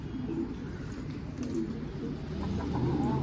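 A pigeon coos softly in a few low, rounded calls, fairly faint over a steady low background hum, with no talking.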